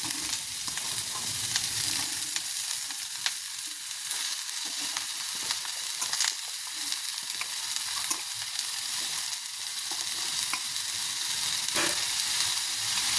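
Sliced snake gourd sizzles and fries in a hot pan with capsicum, a steady crackling hiss with occasional pops and stirring scrapes, no voices.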